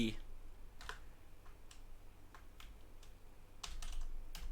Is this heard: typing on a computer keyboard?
yes